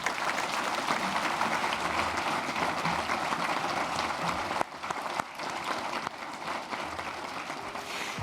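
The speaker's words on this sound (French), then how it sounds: "C'est sous des applaudissements nourris" Sustained, heavy applause fills a regional council chamber after a president's election, a dense wash of many hands clapping at a steady level, slightly dipping midway before carrying on, with no speech over it.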